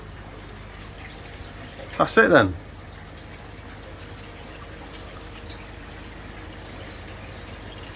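Aerated garden pond water churns with a steady, close-up rushing hiss throughout, while someone briefly speaks over it.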